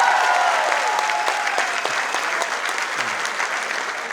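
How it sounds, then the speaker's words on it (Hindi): Audience applause at a young poets' mushaira, a loud, dense burst of many hands clapping that continues steadily, with a few voices calling out and a musical tone faintly underneath at the start. "आप अपने लिए एक बार ज़रूर तालियां बजा दें"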